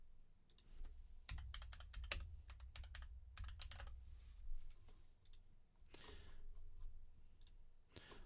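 Fast typing and clicking on a computer keyboard, with bursts of light key taps, a steady low hum under them, and a louder clack near the end, quiet and close with no speech.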